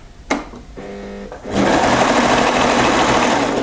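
A sewing machine stitches French terry sweater fabric at a shortened stitch length, starting with a few brief hums and then running in a loud, steady, continuous whir.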